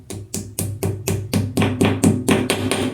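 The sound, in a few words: knocking a shelf into place while mounting it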